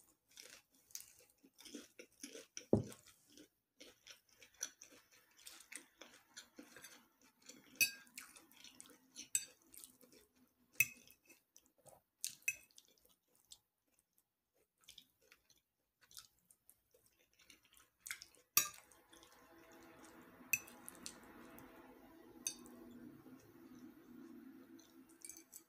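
Close, quiet chewing and crunching of a vegetable-filled spring roll, soft irregular bites and mouth sounds with small clinks, growing busier and wetter toward the end; no talking.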